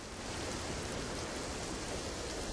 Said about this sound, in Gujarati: આ સતત 6 દીથી વરસાદ આમનામ ચાલુ છે।